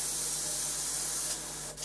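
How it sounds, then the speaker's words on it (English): An airbrush sprays Mr. Colour levelling thinner in a steady, close hiss that runs for over a second, then drops off and cuts out. "I'm just going to spray a tiny little bit through this."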